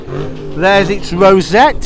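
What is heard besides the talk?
car engine revving at Ford Fair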